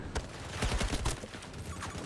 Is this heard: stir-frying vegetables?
no